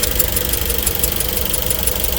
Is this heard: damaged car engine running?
yes